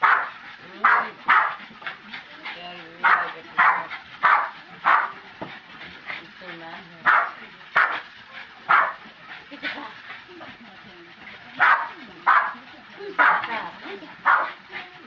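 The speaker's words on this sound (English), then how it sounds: "He's not barking so much anymore." A Boston Terrier barks over and over while chasing a bat, sharp close barks coming in quick bursts with short yips and whimpers between them, and a person talks at times.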